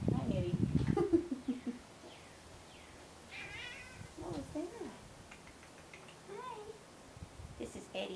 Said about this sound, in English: this is my kitty Eddie